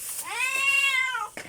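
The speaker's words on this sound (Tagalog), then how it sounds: "Pusa natin." A pet cat gives a single clear, drawn-out meow, close and loud, ending with a faint rustle.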